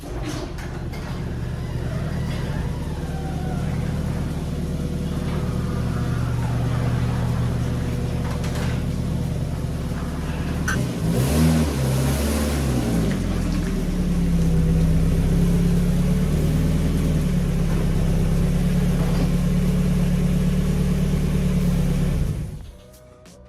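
A 1995 Mazda Miata MX-5 engine idles steadily with a low rumble, briefly revs and warbles midway, then settles back to idle before cutting off.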